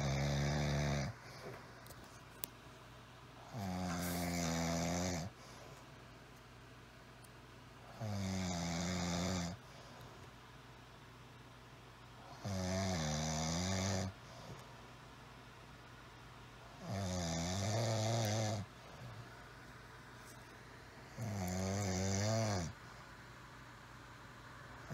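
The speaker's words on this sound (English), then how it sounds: "my husband snores like a freight train" A man snores loudly in bed, six long, rattling inhalations repeating every four seconds or so, close and steady against a quiet room.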